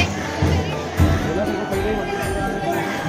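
A dense crowd of devotees fills Babulnath temple in Mumbai on a Sunday, producing a constant close hubbub of overlapping voices and shuffling, with someone talking over it.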